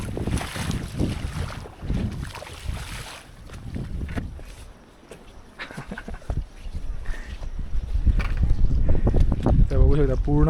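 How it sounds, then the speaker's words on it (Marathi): Strong wind gusts buffet the microphone beside the rain-flooded lake at Raireshwar fort, a loud, steady low roar with rising bursts, while a person talks throughout. "आणि मस्त वारा सुटलाय"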